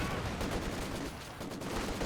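Machine gun suppressing fire in the video game Company of Heroes 2 during a 3v3 match on Hill 400, heard as a dense, continuous crackle of gunfire at moderate distance with no clear breaks.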